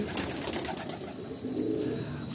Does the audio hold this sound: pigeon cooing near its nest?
yes